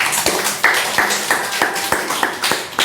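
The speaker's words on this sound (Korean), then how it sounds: "다시 한번 우리 이창기 박사님께 박수를 드리겠습니다" A church congregation at a regular mission prayer meeting applauds, giving a fairly close round of evenly spaced, distinct claps with a slightly thin, sparse texture.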